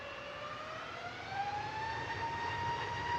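A British Airways oneworld-livery jet touches down at Manchester Airport, arriving from London Heathrow. A steady engine roar with rising whine tones holds throughout, swelling slightly louder partway in.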